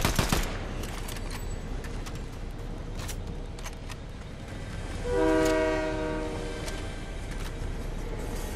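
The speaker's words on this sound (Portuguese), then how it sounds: "Estamos no trem." Video game train rolls along with a steady broadband rumble and clatter, then a sustained horn blast sounds partway through and fades, with no talking.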